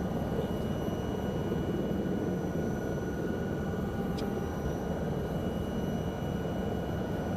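Helicopter cruising over the Andes in Microsoft Flight Simulator 2024, a steady dense engine and rotor drone holding at even loudness throughout, with no voices.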